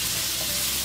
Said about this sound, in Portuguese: Misturar para que ele frite aqui junto com a linguiça.